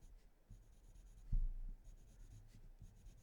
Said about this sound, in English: I'm going to put some graphite just on the underside of that line.